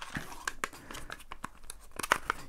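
A G&G MCP556 airsoft gun magazine is handled as its bottom button is pressed and the bumper is removed, giving a close run of plastic clicks, snaps and crinkly rustling taps.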